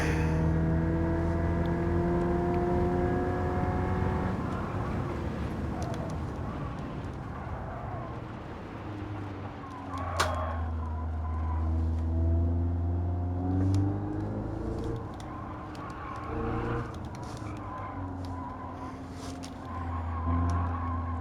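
A race car engine in Gran Turismo 7 drones and whines, its pitch sweeping down and then climbing again as it revs through gears, loud and continuous throughout.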